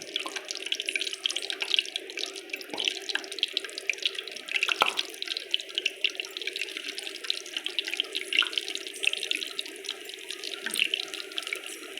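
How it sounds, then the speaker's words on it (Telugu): Homemade kurkure deep frying in hot oil gives a steady, close crackle and hiss with dense sizzling bubbles that run unbroken throughout, with no talking. "అన్నీ వేసుకొని ఇలా డీప్ రెడ్ కలర్లో ఫ్రై చేసుకోవాలండి"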